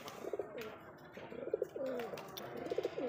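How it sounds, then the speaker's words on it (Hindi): A high-flyer pigeon coos in soft repeated calls, a few low throaty phrases close by against a faint background murmur. "ये कबूतर है।"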